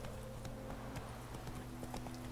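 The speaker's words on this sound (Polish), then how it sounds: "Ale idźmy do konia, a dalej do zielarki podejdźmy sobie tym koniem." Horse hooves clip-clop at a steady walking rhythm in The Witcher 3: Wild Hunt, quiet and close, the in-game footsteps repeating evenly with no talk over them.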